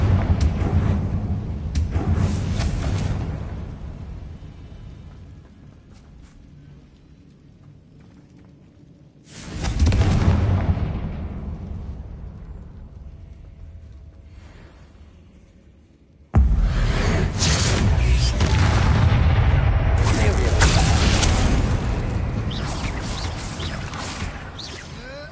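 Fiery Confringo blasting-spell explosions in Hogwarts Legacy, heavy booming blasts with roaring, rumbling tails that swell and fade, three big bursts across the stretch, the last long and sustained.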